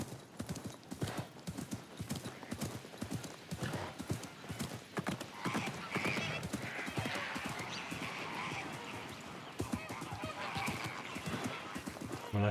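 A horse in Assassin's Creed Mirage clip-clops along in a steady trotting rhythm of hoofbeats, with a neigh breaking through midway, while a voice murmurs faintly underneath.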